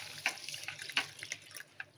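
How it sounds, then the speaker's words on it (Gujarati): Water runs from a tap with splashing bursts as lentils are rinsed in a sink, close and fairly quiet, with no voices. "આ રીતે ધોઈ અને પાણીથી પલાળી દેવાની."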